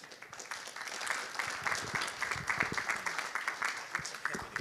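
Audience applause at a local government gathering, a steady wash of many hands clapping that swells and continues throughout, with faint murmuring underneath.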